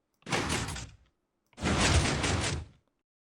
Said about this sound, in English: Now you're ready to test the whole 3x3 piston door.